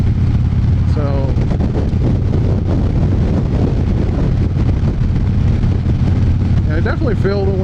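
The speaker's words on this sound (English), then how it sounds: "I definitely feel the wind" Heavy, constant wind roar buffeting the microphone while riding a motorcycle, loud and close, with brief rising whines at the start and end.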